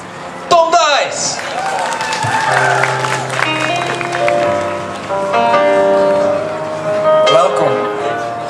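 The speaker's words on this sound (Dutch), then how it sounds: "ik zal u vragen om uw applaus alvast eens te oefenen" A studio audience at a Flemish television show claps and cheers amid music, with talk and whooping over the applause that swells and fades across the stretch.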